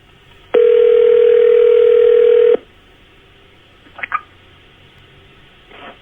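A loud, steady telephone tone sounds for about two seconds as a sheriff's dispatcher calls a victim's phone back, followed by quiet line noise and a few faint clicks.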